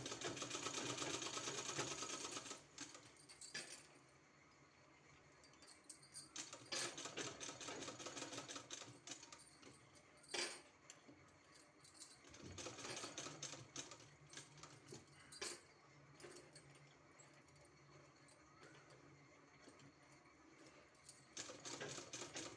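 A sewing machine runs stitching around the edges of fabric pressed on with an iron for a neckline design, its rapid mechanical chatter loud and steady with brief pauses and restarts, no voices.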